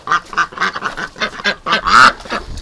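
Several ducks quack loudly and close up in a rapid, overlapping series, from a farm flock of breeder ducks kept outdoors in snow.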